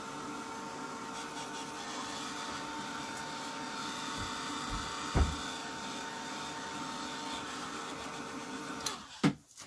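A heat tool dries distress ink on a craft surface, blowing with a steady, even whirring hum throughout, broken by a couple of faint knocks and handling sounds.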